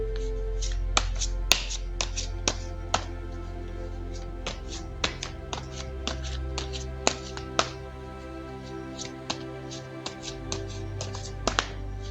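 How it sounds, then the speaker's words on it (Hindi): Tarot cards are shuffled by hand, producing sharp, irregular card snaps and taps over a faint low hum. "तो चलिए पहले ज़रा कार्ड्स को शफल कर लेते हैं।"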